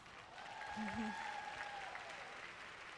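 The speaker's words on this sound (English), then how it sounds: "Give yourselves a round of applause." A conference crowd applauds steadily for a few seconds, with a voice briefly audible over the clapping.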